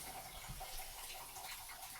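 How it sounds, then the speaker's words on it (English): Water runs steadily into a pan of carrots on the stove, a continuous close hiss and splash lasting the whole moment without any talking. "I'm going to add some water"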